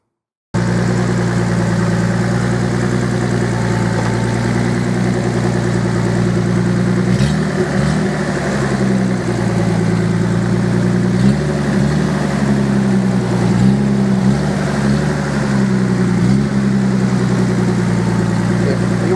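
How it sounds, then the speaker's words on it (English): Nissan/Datsun 280ZX engine turning over and settling into a steady, loud idle at close range, with a few brief rev flutters partway through. "we're going to start the car"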